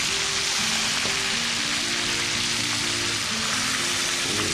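Garlic squid fries loudly in a hot pan, a dense, continuous close-up sizzle with crackling spatter and no voices.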